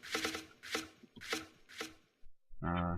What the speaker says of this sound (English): I did turn the sound up a little bit so you can hear them chopping wood over there